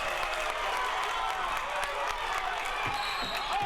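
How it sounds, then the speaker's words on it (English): A fired-up crowd at a boys' high school basketball playoff game in a gym cheers loudly and steadily, with claps and scattered shouts, as a shot falls to tie the game against Burlington Township. "this is a really fired up crowd"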